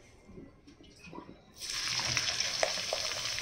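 Sliced onions tipped into hot oil and ghee for a Hyderabadi dish burst into a loud, steady sizzle after a quiet start, continuing close and unbroken.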